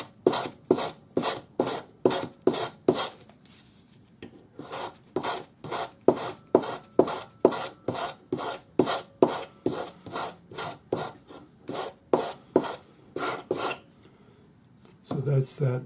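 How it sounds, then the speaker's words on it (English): Close, rhythmic rasping strokes come from 400-grade wet-or-dry sandpaper smoothing file marks off the ends of wire. The strokes fall in quick, even runs with a few short pauses. "And then our 400 grade wet or dry sandpaper to just take our file marks off."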